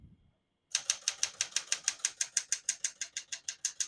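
After a brief pause, a 1973 Smith-Corona Galaxie Twelve manual portable typewriter clacks in a quick, steady rhythm of about twenty sharp keystrokes, close and crisp.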